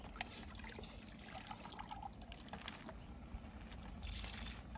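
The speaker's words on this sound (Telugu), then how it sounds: "డ్రిప్ నీళ్ళు పోతూనే ఉన్నాయి." Drip irrigation water trickling on farmland, a faint continuous dribble and splash under a low background hum, with no talking.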